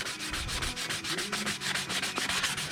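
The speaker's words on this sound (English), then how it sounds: "So just gonna sand away at them a little bit here," Sandpaper rubbing on the corners of the boards of a 1/14 scale lowboy trailer for a semi truck model, in steady back-and-forth strokes that are close and continuous, with no talking.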